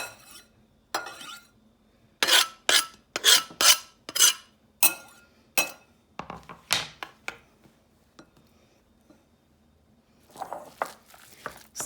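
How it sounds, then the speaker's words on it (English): Spoon working through a turkey meatball mixture in a bowl, a series of close wet scraping strokes in quick rhythmic bursts, pausing and then resuming briefly near the end. "Stir it all up together."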